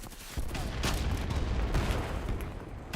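Grenades exploding in the shooter game Battlebit: a loud, dense barrage of blasts and gunfire with heavy low rumble and several sharp bursts, close and continuous over about three seconds.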